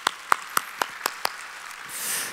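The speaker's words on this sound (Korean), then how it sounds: "박수." At a Wednesday church service, a congregation claps in a crisp, steady rhythm of six sharp beats, then fades into a soft hiss.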